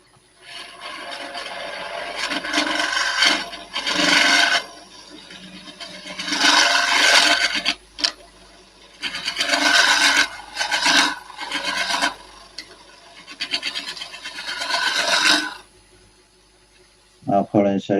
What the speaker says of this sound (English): I'm going to use my other carbide cutter just to clean some of the middle out here.